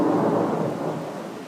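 Deep thunder rumbling through a late-night thunderstorm in Riga, rain hissing steadily underneath as the roll slowly fades over its short span.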